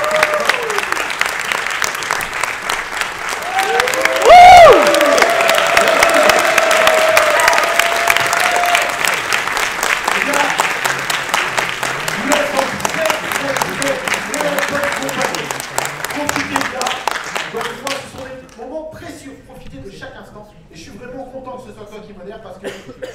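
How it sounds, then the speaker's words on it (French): A room full of people claps steadily for several seconds, the applause thinning and fading out toward the end. "je vous prie d'accueillir, et sous vos applaudissements, notre modérateur d'aujourd'hui est Monsieur Yu Suzuki"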